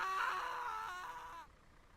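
Brief strained, wavering character screams from the building game Contractville rise and fade over about a second and a half, then cut off into near silence.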